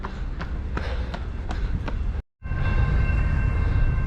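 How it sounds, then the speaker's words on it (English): A train rumbles past close by with a steady, loud broadband roar and repeated clanking of railcars, briefly cut off before the roar resumes with a faint high whine. "There's a train."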